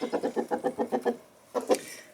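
A chicken clucks in a quick, even run of about eight soft calls, pauses, then gives a couple more close-by clucks.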